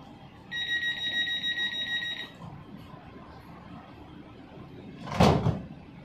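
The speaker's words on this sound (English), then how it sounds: "Please stand clear. The doors are closing." Warning chime of a Los Angeles Metro E Line (Expo Line) train as its doors close: a steady, clear repeating tone lasting about two seconds, then quiet cabin rumble and a sharp loud thud as the doors shut.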